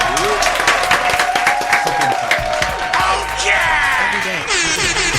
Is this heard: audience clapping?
yes